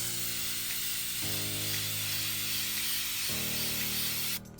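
A steady, continuous aerosol hiss from a can of Flex Seal Clear or polyurethane sealing spray, close and constant for several seconds before cutting off abruptly near the end.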